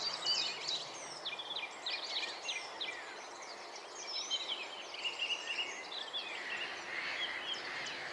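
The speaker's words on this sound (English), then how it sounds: "I can hear wren, chiff-chaff, robin and song thrush." Spring birdsong of wren, chiffchaff, robin and song thrush at Summer Leys, several thin high phrases and chirps overlapping in the distance, fairly faint and continuous over quiet open air.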